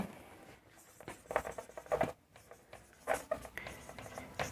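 Chalk or marker writing on a classroom board during a Class 6 mensuration lesson on the perimeter of an equilateral triangle, heard as short bursts of scratchy strokes with pauses between them, close and moderately quiet, with no talking.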